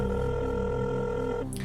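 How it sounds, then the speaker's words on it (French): A telephone rings for a call on a quiz show, giving one sustained, loud electronic tone with steady harmonics that cuts off near the end. "J'espère qu'il va entendre la sonnerie"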